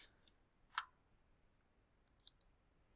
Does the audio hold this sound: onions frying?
no